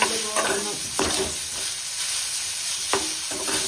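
Dough frying in hot oil in a home kitchen, a steady close sizzle with a few sharp scraping and stirring clatters breaking through at intervals.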